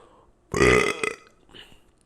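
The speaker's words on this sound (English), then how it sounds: "That was burp number 1." One loud, close, drawn-out belch lasts about half a second, followed by a fainter trailing sound. No talk.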